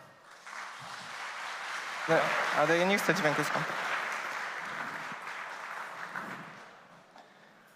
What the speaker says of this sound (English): Mateusz, a nice round of applause for him